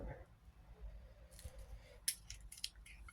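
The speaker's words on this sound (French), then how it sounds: "Moi, je prends un cutter, vous prenez ce que vous voulez, un massicot" Faint, quiet cutting of paper with a small craft knife while making a scrapbook album, a few soft scraping slices and crisp ticks close by.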